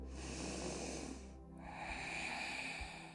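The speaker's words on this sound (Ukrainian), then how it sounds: "Вдих. І ще вдих." Deep nasal inhale during a vinyasa flow yoga session, two long close breaths in with a short pause between them, heard alone against quiet room tone.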